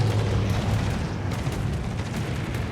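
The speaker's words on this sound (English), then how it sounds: "CV torpedoes are dropping." Torpedo explosions dropped by an aircraft carrier's planes in a naval video game, a deep rumbling boom with dense low roar sustained loudly throughout.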